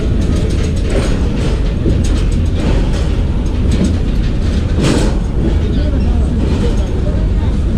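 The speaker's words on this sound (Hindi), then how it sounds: "ये सामने 6 डाउन ग्रीन लाइन और ये इसका लोकोमोटिव है G30 ब्लू टाइगर" Green Line Express train hauled by an AG30 Blue Tiger locomotive, a loud close rumble of wheels and clanking carriages with rhythmic metallic clatter, as someone speaks over it.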